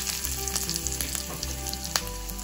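Mustard seeds, cumin, asafoetida and curry leaves hit hot oil in a brinjal bharit tempering, giving a steady close sizzle and crackle with a few sharper pops, no voices over it.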